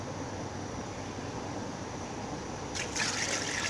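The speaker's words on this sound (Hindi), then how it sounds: "अब इसमें पानी डाल दिएगा" Water poured into a pot while cooking nalli nehari, a steady broadband pouring rush throughout that grows louder and brighter near the end as the flow fills the pot.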